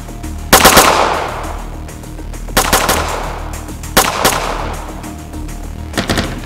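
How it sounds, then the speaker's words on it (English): Gunfire in a 3D animated film: four loud, close bursts of rapid automatic shots, each a quick cluster of sharp cracks with a short ringing tail, spaced about every one and a half seconds with no voices. "shoot him now"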